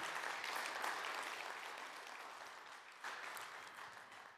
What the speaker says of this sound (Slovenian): Zato en velik aplavz za trmo pri izdelavi teh stolov